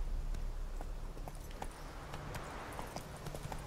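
Hooves of a horse clip-clop at a steady walking pace in The Witcher 3, a regular patter of light thuds over a constant ambient game soundtrack.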